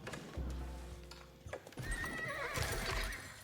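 A horse neighs loudly in a real-time strategy game as a single horseman unit is produced, its whinny standing out over layered game sounds and a steady low hum.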